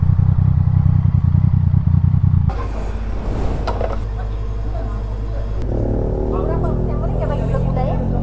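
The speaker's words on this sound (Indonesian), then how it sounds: "Oh, ada geng motor." Several motorcycles roar past on a road along the Kalabakan route, a loud engine drone giving way to overlapping revving and clatter as the group passes close by, with voices talking over the noise.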